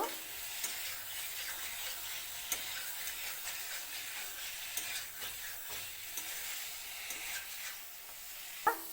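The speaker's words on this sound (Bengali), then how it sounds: "এইভাবে নাড়াচাড়া করে ভালো করে মশলা আলু কাঁচা কলা একসঙ্গে মিশানো হইব" Spiced potato and raw green banana are stirred and fried together in a pan, with steady sizzling broken by repeated scraping stirs and sharp clinks throughout, and no one talking.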